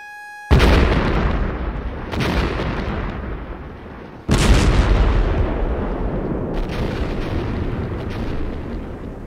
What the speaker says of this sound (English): This blast is the result of a methodically charted and core-drilled quarry planning computerized system